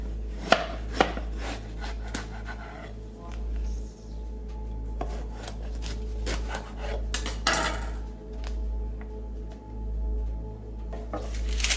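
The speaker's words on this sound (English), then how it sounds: "take your eggplant and cut it vertically" A knife cuts through an eggplant on a board, repeated crisp chopping strikes with uneven spacing, close and fairly loud over a steady low kitchen hum, while preparing baba ganoush.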